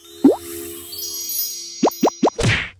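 A silicone Pop It fidget toy is pressed: one pop, a pause, then three quick pops in a row and a last duller pop, each short, close and crisp with no talk.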